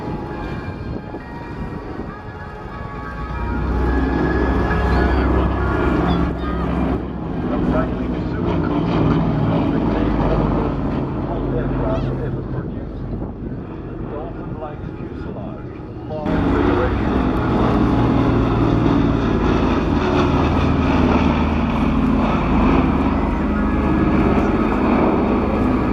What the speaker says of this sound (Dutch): Sound of the 4 Curtiss Wright R3350 engines booming against the sky produce an impressive exhaust